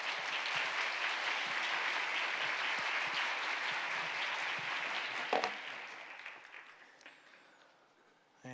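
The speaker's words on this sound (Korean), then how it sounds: "우리 큰 박수로 환영하도록" An audience at a church youth service applauds warmly to welcome a visiting pastor. The clapping is steady and evenly dense at first, then thins and fades out over the last few seconds.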